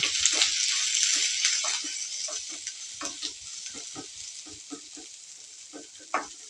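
Garlic sautéing in a pan for a chickpea curry, a steady bright hiss with a run of light spoon stirs and scrapes that grow sparser and softer, one sharper knock near the end, no voices.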